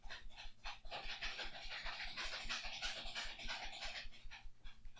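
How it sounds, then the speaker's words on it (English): A pet dog panting in a plastic cage, rapid rhythmic breaths close by with faint shuffling and scraping against the plastic, steady and moderately quiet throughout. "That was my dog."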